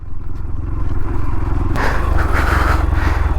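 A motorcycle ridden off-road on a rough patch on the way from Mumbai to Lonavala, its engine a steady close rumble that swells with throttle partway through, with scraping and clattering from the rough ground.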